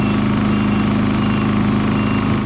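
A Champion 3400 dual fuel inverter generator's small engine runs at a steady, loud drone with a constant low hum and no pauses, no voices over it.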